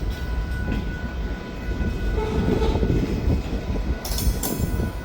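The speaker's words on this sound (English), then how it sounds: "While this train is inching" A slow-moving freight train led by an SD9 locomotive rumbles steadily nearby, with low metallic grinding and a brief high squeal of wheels near the end.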